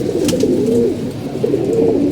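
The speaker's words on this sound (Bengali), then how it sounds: "আর আমাদের মাদি কবুতরগুলো যে এখানে আছে" Female pigeons kept in a loft cooing up close, low rolling coos repeating over a steady background murmur, no voices.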